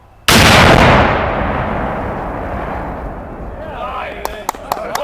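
Civil War navy cannon fires a live shot, one sudden, very loud close boom that rolls and decays over several seconds, followed by a few sharp clicks and faint voices.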